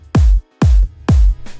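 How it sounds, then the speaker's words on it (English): Vengeance kick drum layered with a hi-hat and a clap for an electronic build-up: three loud, evenly spaced hits, each a booming pitch-dropping thump topped by a bright, crisp snap, with a quieter fourth starting at the end. "every time I use kicks, I always try to layer them with hats and noises"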